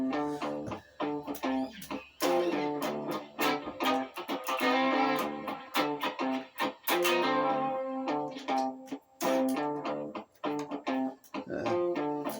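Electric guitar played through a looper with a delay effect, chorus and some distortion, with repeated plucked notes and chords echoing and stacking into a dense, rhythmic layered pattern.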